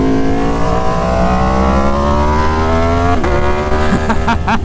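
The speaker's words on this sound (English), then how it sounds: "I'm out on the Tuono today, and God, this exhaust is so freaking loud" Aprilia Tuono Factory motorcycle fitted with an SC Project S1 exhaust, revving loud and close, its engine note climbing steadily in pitch, then a quick blip and crackle of throttle changes toward the end.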